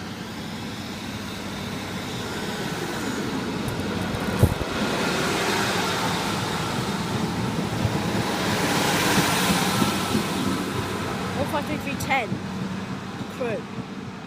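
A train passing straight through platform 1 at Longport station on the West Coast Main Line, a sustained rumbling roar that swells in the middle and eases off, with a sharp clunk early on and squeals near the end.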